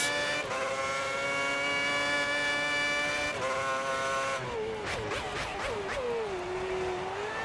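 An F1 racing car in the video game F1 2010 brakes hard into a hairpin, its loud high-pitched engine note dropping in steps through downshifts before settling into a lower, wavering whine.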